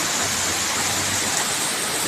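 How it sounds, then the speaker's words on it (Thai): Heavy rain pouring down at a fresh market in Nakhon Phanom, Thailand: a dense, steady hiss of downpour that stays loud and unbroken throughout, with no voices over it. "เอาบรรยากาศบ้านมาฝากเพื่อนนะครับกับบรรยากาศฝนตกที่นครพนมนะครับ"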